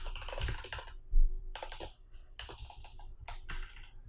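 Code being typed on a computer keyboard, close and clear, with clustered bursts of rapid key clicks separated by short pauses.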